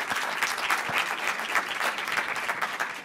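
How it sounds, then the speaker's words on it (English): An audience at a scholarship ceremony claps steadily for about three seconds, a dense even patter of many hands with no voices rising above it. "You all clap it up one more time for Mr. Justin Powell, okay?"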